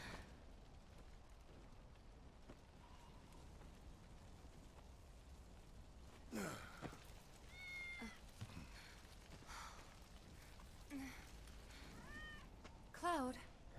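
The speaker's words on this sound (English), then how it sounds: "Good kitty." Cat meows from the video game Final Fantasy VII Remake, a few short tonal calls around the middle and end over a low, steady game background with some faint voices.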